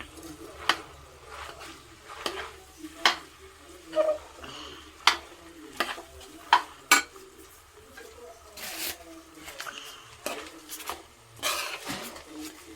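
Kappa biryani made of tapioca and rice is stirred in a metal cooking pot, giving repeated scraping clinks and knocks at an uneven rhythm, close and fairly quiet.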